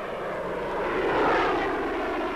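A French Mystère jet fighter flies past with a broad, steady roar that swells toward the middle and holds loud, with no voices.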